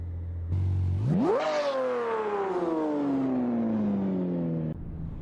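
A car engine revs sharply in the Assetto Corsa driving game, a low idle surging up to a high whine that then trails steadily downward over several seconds before dropping back to idle.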